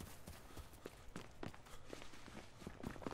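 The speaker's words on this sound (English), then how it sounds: "I can hear his footsteps." Footsteps of an enemy player in the Battlefield Hardline multiplayer video game, a quick run of soft irregular steps, faint and close under low background noise, with no talk.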